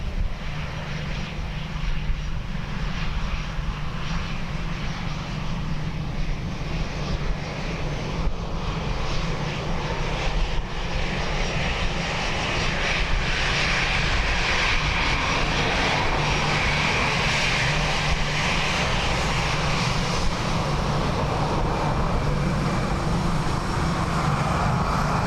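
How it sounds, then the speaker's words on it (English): An Aer Lingus airliner arriving from Prague at Dublin Airport on a windy day, its loud jet engine roar sustained and close throughout, with no talk over it. "this Aer Lingus came in from Prague"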